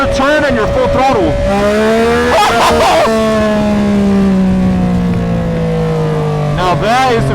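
Yamaha R9 motorcycle accelerating hard at full throttle in lift mode 3 with the front wheel lifting: a loud, rising engine note climbing through gear changes, with brief bursts of voice breaking in over it.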